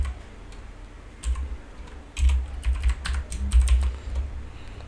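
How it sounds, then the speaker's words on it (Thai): Keys clatter on a computer keyboard as a computer name is typed during Windows 11 setup: scattered taps, then a quick close run of keystrokes in small bursts with no talking. "ก็พิมพ์ชื่อลงไปได้เลยครับ"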